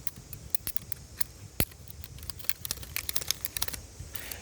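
Metal sheet blades on a homemade Freddy Krueger glove clack and click together in a quick irregular patter of light taps, close and fairly faint, with no talking.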